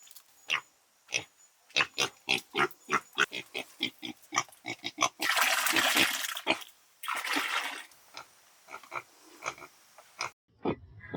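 A stall-fed pig in a piggery grunts and oinks in a rapid series of short, close bursts, broken by longer splashing, sloshing stretches of water or feed, with a few more grunts at the end.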